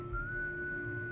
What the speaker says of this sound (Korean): 익숙한 휘파람 소리.